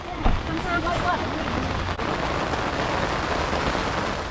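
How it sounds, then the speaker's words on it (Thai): Rain falls steadily on a forest-edge campsite where a tent has just been pitched, a continuous close hiss with a brief knock near the start; a voice is briefly heard. "ตอนนี้ ฝนตก"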